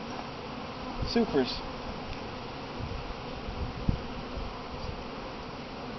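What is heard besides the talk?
honey bees buzzing around hive supers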